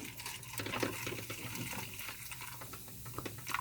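Hot water is poured into a container onto chrome or stainless steel, a soft, faint, continuous splashing trickle with scattered bubbly crackles.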